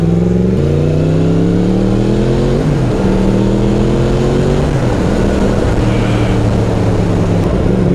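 A Yamaha MT10 street motorcycle accelerating hard on a road test, its engine roaring loud and close, pitch climbing through the gears in stepped rises with brief drops at each shift.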